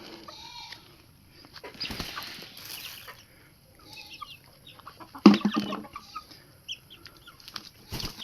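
A broodcock rooster clucks and calls in short bursts, with a sharp squawk and wing flapping midway, set against quiet background noise on a small farm.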